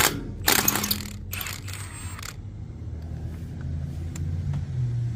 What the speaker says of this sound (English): I'm going to take off 3 nuts and leave 2 on